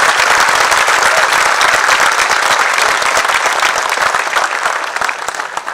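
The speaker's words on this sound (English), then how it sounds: "You all deserve a huge round of applause." Audience applause at a Navy Recruiting District San Diego change of command ceremony, loud sustained clapping from a large crowd that thins slightly toward the end.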